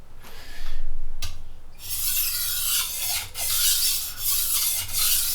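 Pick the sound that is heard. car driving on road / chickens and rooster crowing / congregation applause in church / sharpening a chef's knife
sharpening a chef's knife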